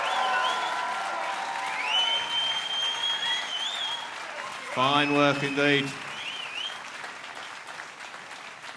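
A comedy club crowd at the Manchester Comedy Store applauds a comedian, steady clapping throughout with a voice speaking briefly over it.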